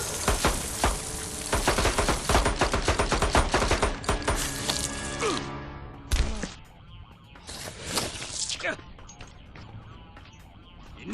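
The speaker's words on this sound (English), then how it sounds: "Pistols!" Rapid pistol gunfire from the Mortal Kombat 9 video game crackles in dense repeated bursts, then breaks off into scattered shots and game sound effects.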